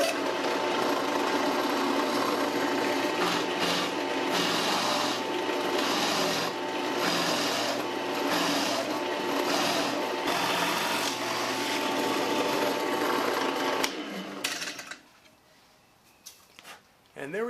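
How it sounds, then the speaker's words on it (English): A drill bores through a wooden leg piece for a DIY collapsible Halloween gallows, a loud, steady grinding whir lasting about fourteen seconds before it stops, followed by quieter handling sounds. "now it's time to drill through the actual workpiece"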